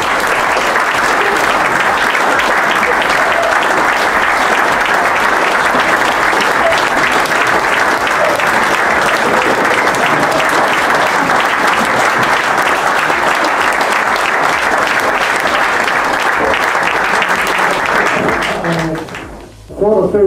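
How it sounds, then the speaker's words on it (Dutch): Long, dense applause from an audience at a club honours ceremony for long-standing members of a Dutch football club, steady and loud for nearly twenty seconds before fading out at the end. "Applaus!"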